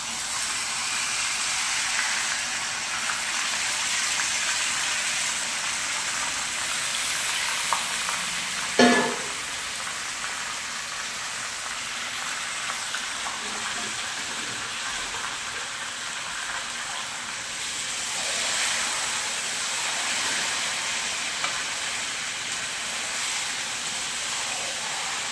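Marinated mutton fries in a pan with a steady, even hiss of sizzling oil, broken by a single clunk of a utensil partway through, and no voices.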